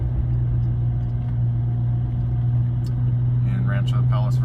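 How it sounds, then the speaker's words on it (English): A 1993 BMW M5 engine drones steadily as the car downshifts into third while cruising at about 40 mph on a bumpy street, a constant close low hum with someone talking over it. "It's a downshift into third, cruising along at 40 miles an hour"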